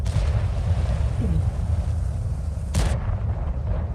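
A tank cannon fires in a tank video game on an ST-II, heavy rumbling battle noise with a sharp bright crack near the end, loud and close.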